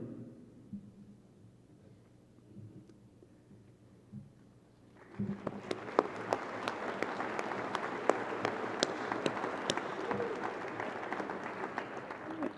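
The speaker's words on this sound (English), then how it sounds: "And they do deserve a round of applause" Applause at a 2021 Proctor High School graduation ceremony: after about five quiet seconds of low murmur, a large crowd breaks into sustained, dense clapping that fills the room and holds steady to the end.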